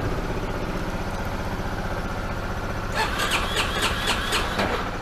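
A Yamaha Ténéré 250 motorcycle engine being cranked in an attempt to start it, a steady close mechanical churn that turns harsher and more pulsing partway through, heard alone without talk.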